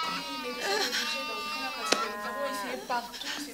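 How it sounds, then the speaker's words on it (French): Sheep bleat in a stable with other animals, several wavering cries overlapping over a few seconds, with people talking alongside them. "vous entendez les, les moutons, vous entendez les animaux"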